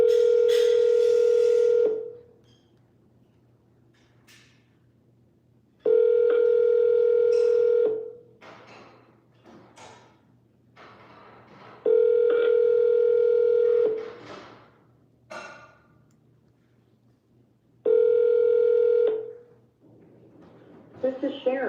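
Phone line on a real estate cold call plays a steady dial tone and ringback in four long bursts separated by pauses, followed by a short burst near the end, with faint voice activity in the gaps.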